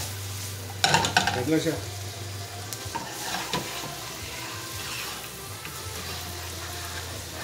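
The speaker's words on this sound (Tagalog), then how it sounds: "Itong beef ko, ginisa ko rin to." New York steak with cabbage sizzling and being stirred in a pan, a steady frying hiss with clattering utensil scrapes near the start and scattered stirring later, while someone speaks briefly over it.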